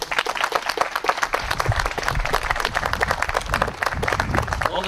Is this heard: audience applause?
yes